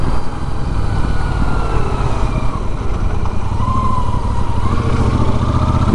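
A Royal Enfield Super Meteor 650 motorcycle rides along a highway, its engine a loud, steady drone mixed with rushing wind and road noise, with no voices and no breaks.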